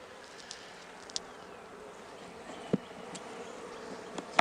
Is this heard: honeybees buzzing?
yes